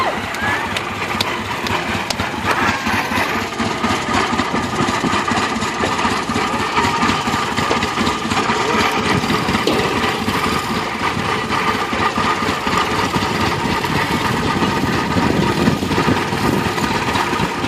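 A heavy 1920 Rumely OilPull tractor engine chugs steadily with a low, rumbling idle, continuous throughout, with faint voices mixed into the background at a power parade.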